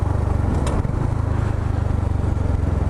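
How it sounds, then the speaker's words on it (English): A KTM RC 125 motorcycle fitted with a Scorpion aftermarket exhaust idles and burbles steadily nearby, a low buzzing drone with a brief blip of throttle. "the exhaust is so much better. It's like louder, it pops and like crackles,"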